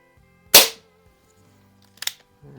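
A Crosman Fortify BB air rifle fires with one sharp, loud crack, followed about a second and a half later by a second quieter snap, likely the pellet striking its target, in an otherwise quiet outdoor setting.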